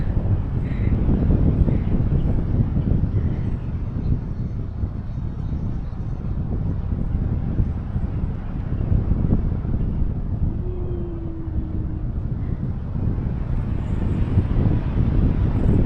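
Steady wind rushing and buffeting across the microphone on Mt. Anahawon, a continuous low roar with no pauses, broken only by a brief faint tonal hum midway.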